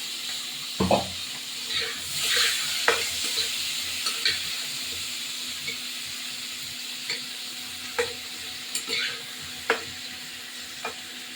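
Potatoes and bori (lentil dumplings) fry in a pan for a brinjal and tengra fish curry, giving a steady close sizzle with a few sharp clinks and scrapes of stirring.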